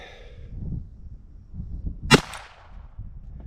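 A single sharp gunshot from a Ruger Wrangler Birdshead revolver firing 36 grain Mini Mag rounds cracks out once at an outdoor range, loud and close, over low background rumble.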